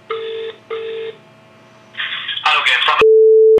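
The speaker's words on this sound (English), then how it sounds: "I'm gonna make a phone call." A telephone call signal: two short repeated tones, then a pause, then a burst of dialing or connection noise ending in a sustained steady tone, loud and clear.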